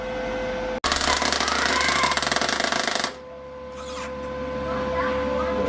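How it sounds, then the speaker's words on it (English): Welder laying test welds on the star gears of a differential in a VS Commodore build: a loud, dense crackling buzz runs for a little over two seconds, then cuts off, leaving a quieter hum with faint talk. "Doing some test welds there"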